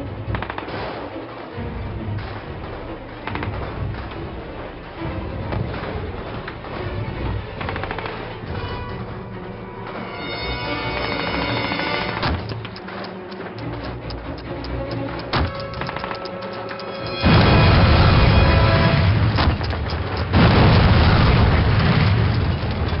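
Dense, continuous Call of Duty combat with rumbling bomb explosions and booms among rattling gunfire, building to a louder, heavier blast section near the end.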